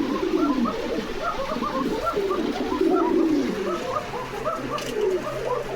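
Indigo-coloured domestic pigeons, a male and female pair, coo repeatedly in a steady low rolling rhythm, close by, with faint background noise and a brief soft splash near the end.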